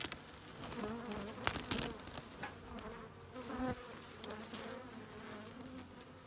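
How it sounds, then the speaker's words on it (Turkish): A honeybee colony buzzes continuously inside an opened hive, a dense close drone of many wings with occasional individual bees passing nearer, quiet overall and without speech. "Dostlar arılığımızda en çok hoşuma giden arılardan biri de bu."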